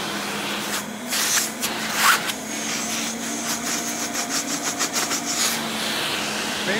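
A Rainbow D4c canister vacuum cleaner runs with a steady close whir, with bursts of rough rubbing and suction noise as the nozzle moves across a surface.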